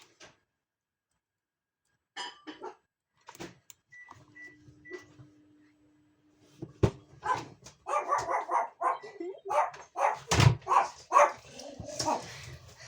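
Dogs bark in scattered bursts at a distance, sparse at first and then more frequent and overlapping toward the end, with a faint steady tone midway.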